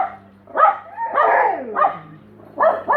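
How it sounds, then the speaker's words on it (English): A dog barks several times in a neighborhood, loud and fairly close, with a drawn-out whining yelp in the middle between shorter barks. "There's a dog."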